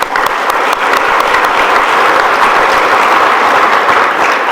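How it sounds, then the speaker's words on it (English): Sustained audience applause at an award ceremony, steady and dense throughout with no speech over it. "So give yourselves a round of applause."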